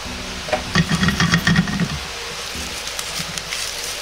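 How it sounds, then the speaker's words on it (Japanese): Chikuwa and vegetables stir-fried in a frying pan, pushed around with chopsticks: close, busy sizzling with a run of scraping stirs in the first two seconds, settling into a steady softer frying hiss. "箸などを使って底の方からかき混ぜるようにして炒めます"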